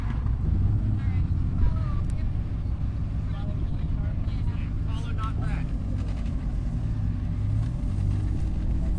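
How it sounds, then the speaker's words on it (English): A Porsche race car's engine drones steadily on a racetrack during a morning session at Carolina Motorsports Park, sounding rough and strained, with a voice commentating over the continuous roar. "It sounds like the Porsche might not be too happy right now."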